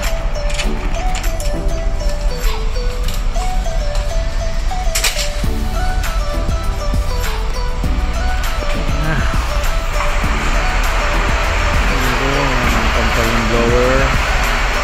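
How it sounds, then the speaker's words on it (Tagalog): Main engines run in the engine room of the Bourbon ARGOS, an offshore anchor handling towing supply vessel. The machinery roar is loud and steady throughout, with tonal hums and shifting whines layered over the drone. "Ayan ating mga main engine."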